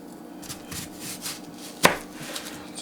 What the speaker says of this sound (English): I'm chopping up an onion